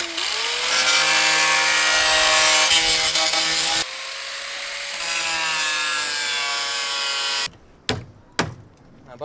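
A worn spiral cutting disc on a grinder slices loudly through the metal body of a Tofaş car, a sustained harsh whine with shifting pitch that cuts off abruptly, followed by a few short bangs and clatters.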